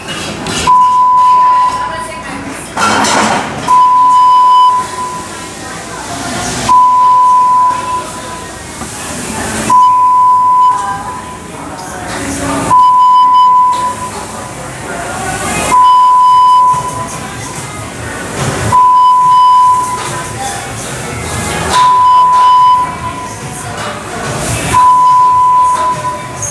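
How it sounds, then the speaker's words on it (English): A building fire alarm repeats a steady high electronic tone in regular bursts, loud and insistent, with recorded announcements and background noise between the pulses. "An alarm has been initiated in the building."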